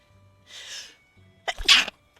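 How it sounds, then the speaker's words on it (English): A person sneezes twice, close and alone: a soft breathy first burst, a pause, then a louder, sharper sneeze with a quick intake just before it. "Can I stop sneezing, please?"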